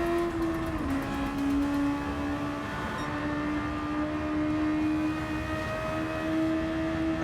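Honda race car engine in Gran Turismo 7 holding a steady high rev, a loud continuous drone with a pitch dip near the start and sustained tone throughout, no talk.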